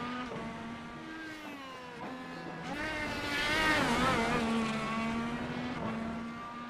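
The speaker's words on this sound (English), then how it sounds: "Maybe a little bit of a bobble there on the upshift for James Watson. Grabbing one gear too many. Heard the car really rev up there." Simulated IndyCar engine in the iRacing game at Sebring, a high, whining race-car note that climbs and falls through gear changes, swelling into a sharp rev on an upshift before settling, steady and unvoiced.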